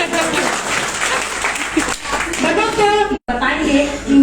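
An audience at an achiever celebration event breaks into steady applause, a loud, dense wash of clapping with speech and voices overlapping, briefly cutting out near the end.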